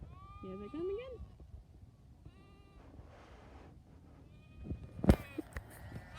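Sheep bleat on a farm by a gate: several wavering, drawn-out calls in the first seconds, then a sharp loud knock near the camera, with a person talking softly throughout.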